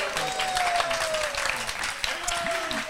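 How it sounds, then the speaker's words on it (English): Audience applause at an evening devotional program, dense sustained clapping throughout with a faint sustained tone above it, steady and fairly loud. "So let's give them a big round of applause."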